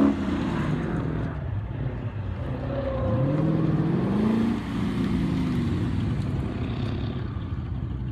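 A red Corvette sports car runs an autocross course at a Palm Springs charity event, its engine droning and rising and falling in pitch as it revs and accelerates past, at moderate distance.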